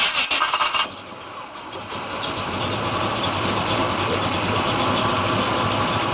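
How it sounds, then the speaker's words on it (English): A 1970 Chevelle SS 396 with a power-increased V8 cranks with a rapid churning, catches, then settles into a loud, steady, rumbling idle close by. "Let's listen to the exhaust."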